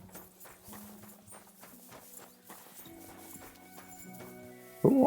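A horse in Kingdom Come: Deliverance II clip-clops at an even walking pace, its hoofbeats fairly soft and regular. A louder sudden burst ends the sequence.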